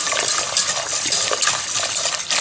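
Spoon stirring a thick veal blanquette sauce with its egg-and-cream liaison in a cooking pot, a steady, fairly loud scraping swirl with regular clinks against the pot, no voices.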